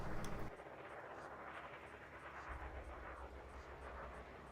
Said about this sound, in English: Did use my thrusters.